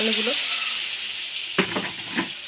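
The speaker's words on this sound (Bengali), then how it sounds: "আলুগুলোকে একটু লাল লাল করে আগে ভেজে নেব" Washed potatoes sizzle in hot oil with bay leaf and cumin, a steady close frying hiss with a few stirring scrapes; a voice is briefly heard at the start.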